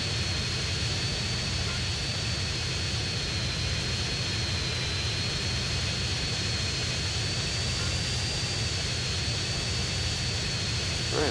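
Jet plane engine in GTA San Andreas, a loud, unbroken roar with a steady high whine running throughout, close and constant with no break.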